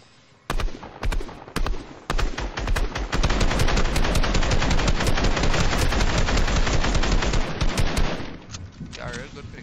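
An arena match in a video game is filled with loud, dense automatic gunfire, steady bursts of shots running almost without pause and tapering off near the end.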